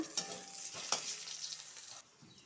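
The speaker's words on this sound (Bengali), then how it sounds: "আলুটা ভালো করে ভাজিয়ে নিব" Potatoes fry in hot oil seasoned with panch phoron and bay leaf, a soft steady sizzle broken by a few sharp stirring scrapes, close by and fairly quiet, with no talking.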